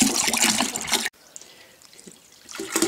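Water pours into a beer fermenter while a home-brewed batch is topped up to 5 gallons. A loud, splashing pour runs for about a second and stops abruptly, then faint dribbling follows and a fuller pour swells back at the end.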